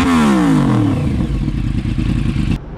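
A Yamaha R1 sport motorcycle fitted with a titanium exhaust revs loudly up close, its engine note rising and then roaring steadily with rattling clatter until it cuts off abruptly.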